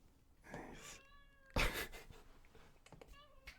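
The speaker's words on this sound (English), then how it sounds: "Forgive me if you can hear my cat crying in the background." A cat meows several times in short, rising cries, fairly close, with a louder yowl in the middle.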